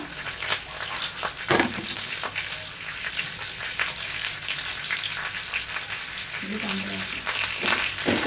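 Green chillies and curry leaves sizzle steadily in hot oil for a savoury semiya pulihora, with a continuous close crackle, occasional stirring clatter and brief talk over the frying.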